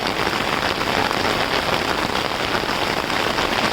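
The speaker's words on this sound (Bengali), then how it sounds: "চারিদিক বৃষ্টি নামতেছে" Torrential rain falls under dark, heavily clouded skies, a thick, unbroken roar of drops hammering the ground all around, loud and constant with no speech.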